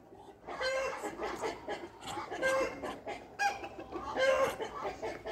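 Chickens cluck in repeated bursts, a rooster's throaty calls standing out among them, fairly close, with a faint voice now and then.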